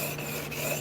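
A file rasping steadily across a hand plane blade to remove the burr, a continuous close scraping texture with no pauses.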